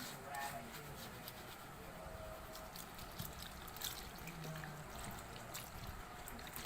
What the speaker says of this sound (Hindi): अब मैं आपको साफ पानी से वॉश करके भी दिखाती हूँ